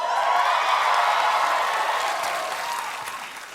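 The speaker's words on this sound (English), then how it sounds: "Nice of you to applaud for him" Studio audience in a late-night comedy show breaking into loud applause, a dense wash of clapping that swells and then slowly fades, with faint cheers mixed in.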